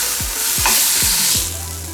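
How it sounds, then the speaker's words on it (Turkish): Beef fillet sears in a hot frying pan, giving a loud, steady sizzle up close. A few low thumps sound as the meat is moved or turned, and no one speaks. "Bu şekilde her bir yüzünü 2-3 dakika mühürleyecek şekilde pişiriyorum."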